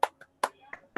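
Students in a group counseling session doing a short clap chant, a few sharp, quick claps spaced unevenly across a second, with brief voices between them.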